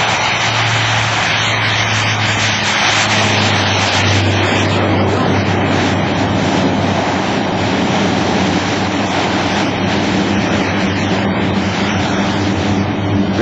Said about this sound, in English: You'll hear the props reverse as soon as he gets her on the ground almost.